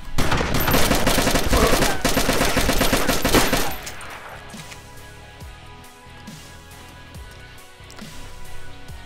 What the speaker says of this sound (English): I shot you 2 times with a shotgun.